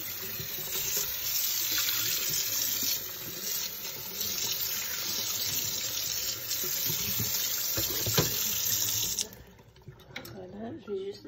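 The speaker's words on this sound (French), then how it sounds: "Donc je vais faire un coup de rinçage." Tap water runs steadily into a kitchen sink during a rinse after cleaning, a continuous hissing splash that stops abruptly near the end, leaving a few faint drips and small clatters.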